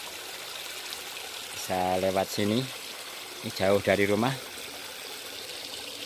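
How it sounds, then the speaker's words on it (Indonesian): Water from a nearby river trickles gently beside a rural footpath, forming a steady, soft background hiss beneath two short bursts of someone speaking. "hanya gemercik air ya ini, karena dekat sungai"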